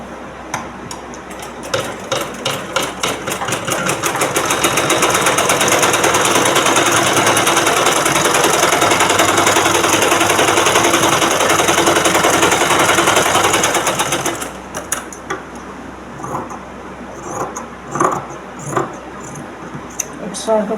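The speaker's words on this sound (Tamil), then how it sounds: "இந்த மெயின் துணியில் நான் இப்போ தைச்சி காமிக்கிறேன்" A sewing machine stitches blouse fabric in a long continuous loud run of rapid needle clatter lasting about twelve seconds, then stops, leaving scattered clicks and light handling noises.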